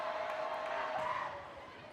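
Crowd noise at a Virginia Tech vs. Pitt 2025 ACC volleyball match: a dense, sustained roar of a packed arena that eases slightly toward the end, with a commentator's voice over it.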